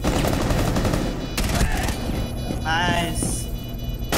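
Rapid bursts of SMG fire in Rainbow Six Siege ring out loud and close over a busy game soundscape, with game voice lines under the gunfire.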